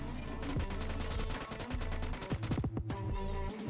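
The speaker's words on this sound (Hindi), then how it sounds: "ऊपर से फायरिंग की आवाज़ आती है" Dense, continuous automatic gunfire in a PUBG mobile match, rapid bursts of shots coming from above, loud and sustained with overlapping reports and no talk.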